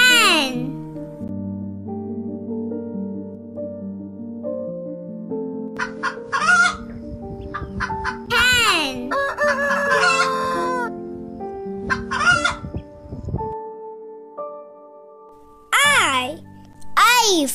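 A hen clucks and a rooster crows in a children's alphabet recording, loud and close, with someone speaking over the repeated bird calls and background music.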